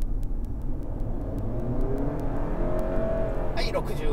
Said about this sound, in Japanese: その前に加速いきますね